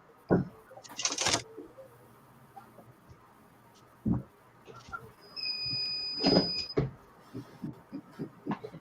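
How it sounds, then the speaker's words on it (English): A thin electronic beep sounds once amid scattered clicks, knocks and faint room noise, with a few quiet shuffles. "If the beeping gets annoying, just let me know."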